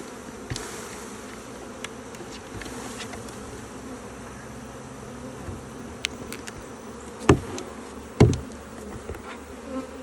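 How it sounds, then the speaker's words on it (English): Steady buzzing of many bees flying close around, with a couple of sharp knocks near the end and no talking. "we got a few bees in the air"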